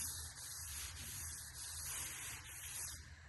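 A sanding block is dragged by hand across the body panel of a 1958 Dodge crew cab truck, giving a steady, close abrasive rasp with slight surges as the stroke slows, alone with no talk.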